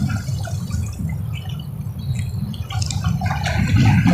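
Choppy water sloshes and laps close by during tilapia fishing, a dense, rumbling wash of waves that grows slightly heavier toward the end.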